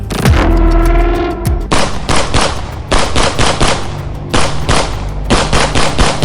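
Rapid bursts of automatic gunfire rattle loudly and close in a terrorist ambush, several sustained volleys with brief pauses between them, no voices.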